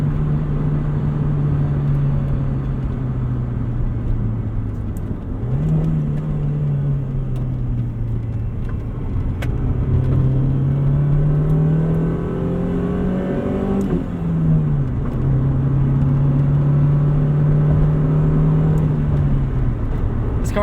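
A golden-era Honda Civic Si with manual steering drives along, its engine droning loudly and rising and falling through several rev climbs and shifts under steady road rumble, with no talk.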